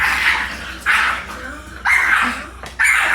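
Two Boston Terriers bark in short bursts with whimpers and yips in between, close by and loud, about four sharp outbursts.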